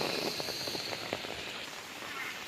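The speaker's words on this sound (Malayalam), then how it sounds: "നല്ല മഴയാ." Heavy monsoon rain falls steadily outdoors on the first day of Karkidakam in Kerala, a dense even hiss with scattered drops, fairly faint.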